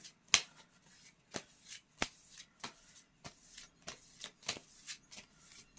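Tarot cards are shuffled close up, with a steady run of soft riffling snaps and taps and no talking.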